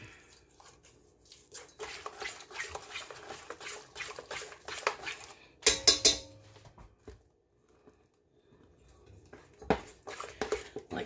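Flour is worked into pretzel dough in a bowl, producing soft irregular scraping and tapping clatter in uneven bursts, with a sharper clink of utensil against bowl midway, then quiet gaps before more stirring.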